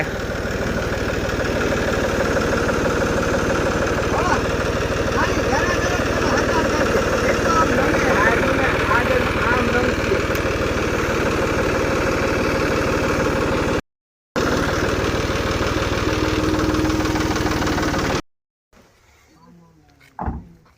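A New Holland 5620 4x4 65 hp tractor engine idles steadily in the foreground for most of the stretch, with people talking over it, then cuts out briefly and returns at lower level.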